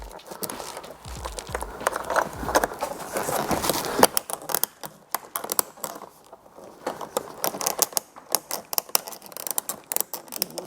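Close, sharp plastic clicks and snaps in an irregular series, with rustling and scraping as car door trim clips are pushed and pressed into place on a Lexus SC430.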